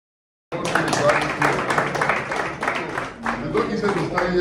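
Conference audience clapping after a break of silence, a dense round of many hands applauding that continues steadily, with some murmuring voices mixed in beneath the claps.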